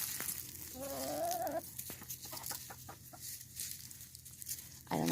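Roosters cluck softly in a coop, with one short run of clucks standing out over a quiet farmyard background.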